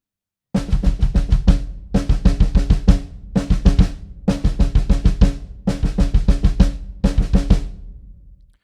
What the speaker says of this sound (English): All right, the fun bit, the double pedal solo.